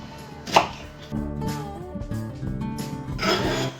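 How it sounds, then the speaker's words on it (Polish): An onion is diced into cubes with a knife on a board while soup cooks, giving a steady run of close, crisp chopping strokes in bursts, with no talk. "Ja cebulę kroję w kostkę."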